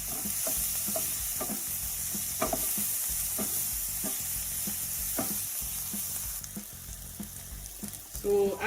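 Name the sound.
onions and green pepper frying in a pan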